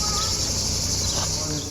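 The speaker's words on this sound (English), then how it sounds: "Love the cicada sound." Cicadas in Carcassonne, France, buzz in a dense, continuous high-pitched drone, steady and loud throughout the short stretch, with faint background noise underneath.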